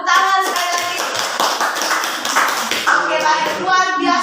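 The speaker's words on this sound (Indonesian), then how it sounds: "tepuk tangan sekali lagi" Classroom applause from students after a group presentation, a steady wash of many hands clapping close by for about four seconds, with voices talking and calling out over it.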